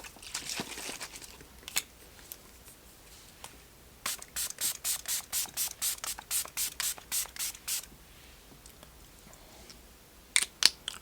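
A vegan spray serum is misted in a run of about a dozen short, evenly spaced hissing spritzes, close and crisp, after a few scattered earlier sprays and before a couple of final bursts.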